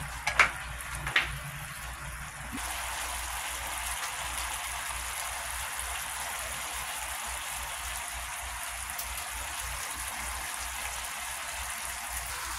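Water boiling in a pot for pasta bubbles with a soft, steady hiss, faint and even, after a couple of light clicks at the start.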